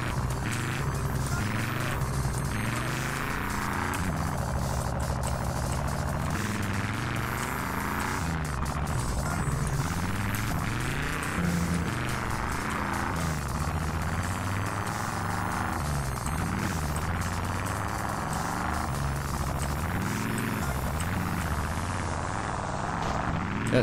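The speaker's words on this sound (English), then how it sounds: "In the monster truck." A monster truck engine in a video game drones and throbs continuously at a steady, loud level, rising and falling slightly as the truck drives, with occasional thumps and no talking.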